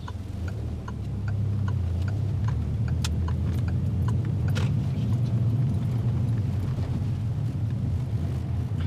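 A car engine pulls away uphill, a steady low drone that rises and holds as the vehicle moves off, with faint ticking over the top.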